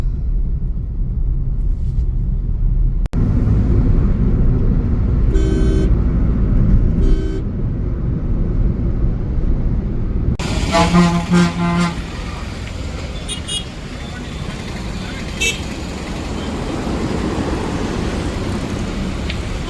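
Busy road traffic during the Diwali festival rumbles steadily, broken by several short car horn toots, with a longer stretch of honking midway and faint voices in the background.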